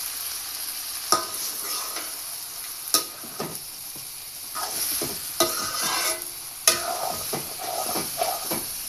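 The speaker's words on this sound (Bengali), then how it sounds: "আজকে মিষ্টি কুমড়া রান্না করতেছি, মাছ রান্না বুনা করছি আজকে" Pumpkin and fish curry is cooked and stirred in a pot, making a continuous hissing sizzle with intermittent clinks and scrapes of the spoon against the pan, close and without speech.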